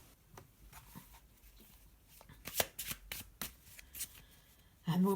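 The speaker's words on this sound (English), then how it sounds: "so I'm going to have a little shuffle." Tarot cards riffle and slap together in a close, soft shuffle, a run of quick papery flicks and taps ending in a louder burst.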